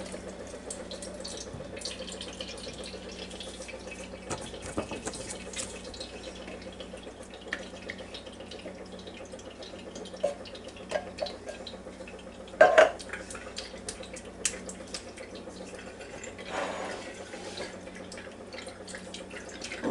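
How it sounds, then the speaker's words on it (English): Juice draining from a canned pineapple into a sink, a steady trickle with light drips and a few clinks of the can against metal. "So we're going to drain the pineapple."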